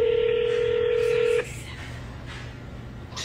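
A telephone keypad tone sounds steadily for over a second as a number is dialed at home, then cuts off, leaving a quieter hiss of room noise.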